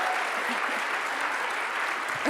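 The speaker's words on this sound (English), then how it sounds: "So let's give a round of applause." A seated audience gives sustained applause for a mother in the crowd, a steady wash of many hands clapping at close range that holds evenly throughout.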